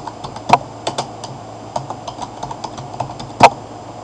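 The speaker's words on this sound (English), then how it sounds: "We're going to start by typing." Close, uneven clicks of a computer keyboard being typed on, with a couple of louder key strikes among the lighter taps.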